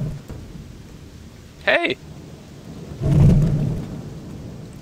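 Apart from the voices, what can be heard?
lightning spell strikes in video game Gothic 2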